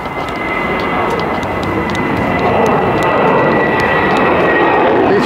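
An airplane flying near Heathrow Airport, a loud, steady engine roar that swells slightly as it passes close overhead, with no talk.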